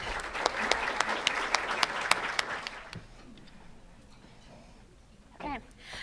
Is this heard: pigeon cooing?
no